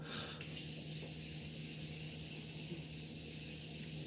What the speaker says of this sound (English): But the Morphe setting spray continuous mist, holy cow.